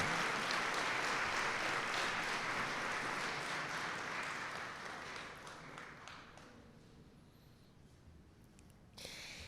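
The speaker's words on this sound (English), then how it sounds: "one more round of applause for the Lily Kai Dance Company" An audience at a stamp-issue ceremony applauds the Lily Kai Dance Company, a dense wash of many hands that slowly thins and fades over several seconds to a few scattered claps near the end.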